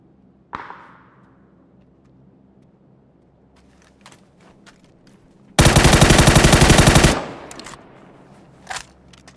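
In the video game PUBG, a sharp single shot rings out, then a long, loud burst of rapid automatic gunfire roars for over a second, followed by scattered clicks and a final shot.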